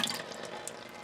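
Leftover water in an in-ground sprinkler pipe drains away with a faint, steady trickle that runs evenly for about a second, with no voices.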